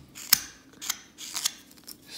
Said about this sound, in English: I use these simple push cuts to cut